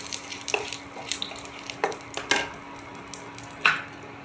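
Bay leaf and whole garam masala spices sizzle in hot oil, with a soft constant fry and several sharp pops and crackles spread across the clip, no talking.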